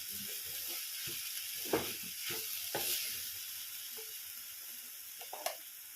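Vegetables for a masala quinoa khichdi sizzle steadily in a pan, with several sharp scraping stirs breaking through the constant frying hiss; no talking.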